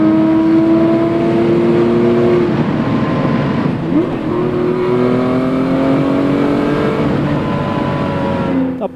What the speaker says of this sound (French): Écoutez les montées en régime. Voilà ce que c'est une Porsche RS.